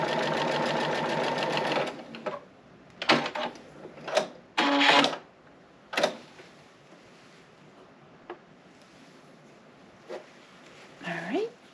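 A sewing machine runs in short bursts while stitching a quilt block, a loud whirring run at the start followed by several brief stitching spurts with quiet pauses between, close by.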